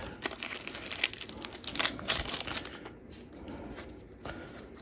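Plastic bags holding Ultraman 3rd Anniversary trading cards crinkle and rustle close up in bursts of crackling handling, busiest early on, then easing into quieter rubbing with one last crinkle near the end.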